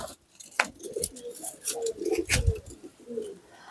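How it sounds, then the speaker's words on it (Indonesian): Soft, low coos from a high-flying pigeon repeat in short phrases against a quiet background, with a few faint higher chirps. "Ini contoh merpati tinggian."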